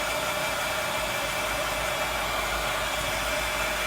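A hair dryer blows steadily and close, drying stencil paint: a constant loud, breathy whoosh with a low hum, unchanging throughout and with no talk.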